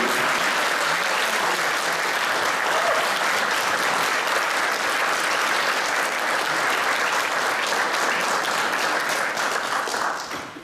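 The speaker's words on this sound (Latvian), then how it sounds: "šīs 4 dāmas ir pelnījušas grandios aplausus, vai ne?" Applause for four volunteer women at the Riebiņi municipality Volunteer of the Year 2014 award ceremony, a sustained hall-filling clapping from the audience lasting about ten seconds before tapering off at the end.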